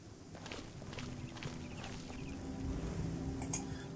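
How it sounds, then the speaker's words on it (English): Hooves of wild horses clip-clopping across open ground in the game Oblivion, a faint, uneven patter of steps under low ambient game music. "Looks like there's some wild horses"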